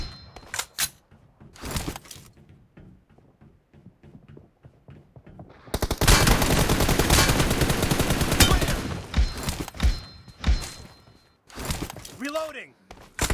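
Bursts of video game gunfire crackle through a shooter match, with short sharp volleys early on, then a dense sustained barrage lasting several seconds and scattered shots after, while a game voice barks callouts.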